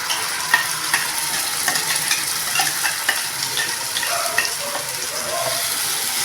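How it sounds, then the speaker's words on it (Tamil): Ground masala paste for fish curry sizzling and frying in a hot pan, with a spoon stirring and scraping through it, a steady crackle running throughout. "சேர்த்துக்கிட்டு நல்லா வதக்கணும்"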